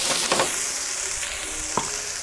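Onions and carrots fry in avocado oil and butter in a pan, a continuous close sizzle and crackle with a couple of short stirring scrapes and clatters against the pan.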